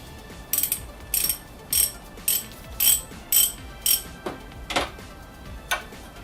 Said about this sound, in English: I remove this using the ratchet and socket